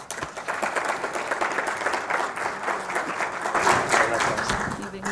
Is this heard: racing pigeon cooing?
no